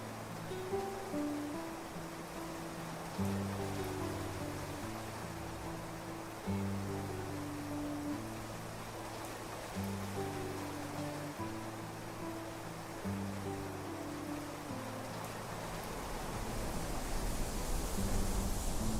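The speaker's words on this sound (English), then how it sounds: "Oh, it finally stopped raining." Steady rain falls in the video game Clanfolk, a broad even hiss over soft looping game music, with no talk.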